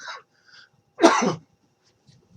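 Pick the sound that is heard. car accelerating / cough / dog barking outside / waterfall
cough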